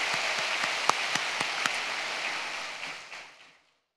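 A church congregation at a prayer retreat applauds, a broad hiss of many hands with a few sharper individual claps standing out, steady at first then fading quickly into silence near the end.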